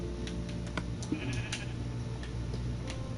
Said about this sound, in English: Now I need to get this sheep.